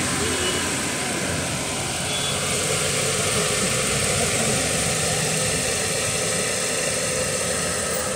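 A 2008 manual car's engine idles steadily at a Friday used-car market in Saudi Arabia, a continuous low rumble and vibration throughout, fairly close.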